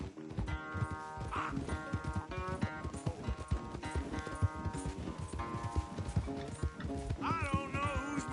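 Hooves clip-clop in a rapid, steady gallop as a horse races in Red Dead Redemption 2, with game music and an occasional whinny running alongside the pounding beat.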